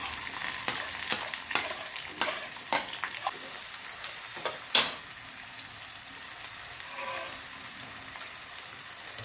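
Curry leaves and onion frying in hot oil with mustard seeds in a pan, a steady broad sizzle with sharp crackles and pops early on, close and continuous, with no voices.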